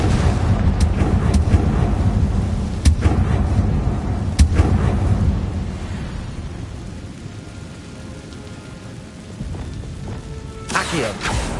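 A Confringo spell blast in Hogwarts Legacy, a fiery magical explosion heard as several sharp booming bursts over a dense rumbling battle bed, with a final louder crackling burst near the end.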